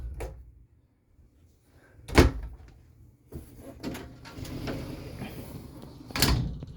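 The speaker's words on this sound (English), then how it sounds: "Sliding doors." Wardrobe sliding doors in a 2019 Keystone Cougar RV rolling and bumping shut, with a few sharp knocks and soft scraping in an otherwise quiet interior.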